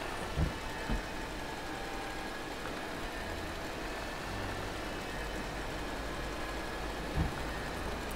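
A tractor engine in the video game Astroneer runs with a steady, low, rumbling drone that continues throughout, broken by a few faint thumps.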